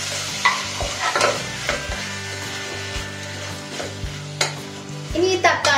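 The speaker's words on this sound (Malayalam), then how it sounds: "ഇനി നമുക്ക് ഇത് നന്നായിട്ട് ഒന്ന് മിക്സ് ചെയ്തിട്ട്" Tomatoes frying in a pan for tomato rice are stirred, a spoon scraping and knocking amid a constant close sizzle, with occasional louder scrapes.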